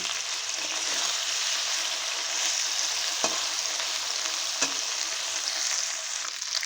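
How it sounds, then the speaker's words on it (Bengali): Morola fish fry in hot oil in a kadai, a steady close sizzling hiss with a couple of brief sharp clicks, no voices. "এখন মাছটা ভেজে আমি নামিয়ে নেব"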